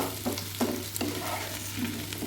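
Potatoes frying with a little salt in a pan over a medium flame for a vegetarian cauliflower dish, giving a soft steady sizzle broken by several stirring scrapes at intervals.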